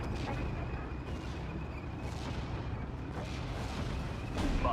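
An off-map 210mm artillery strike in the video game Steel Division: Normandy 44 lands as a dense, continuous rumble of heavy booms, loud and sustained, with bursts swelling toward the end.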